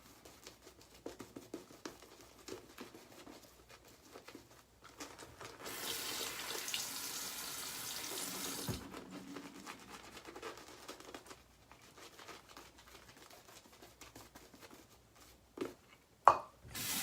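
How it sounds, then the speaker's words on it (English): A shaving brush swirls lather on shaving soap before a single-edge razor shave, a soft wet churning with a broad hiss in the middle stretch, quieter brushing on either side, alone and close. "Let me lather it first."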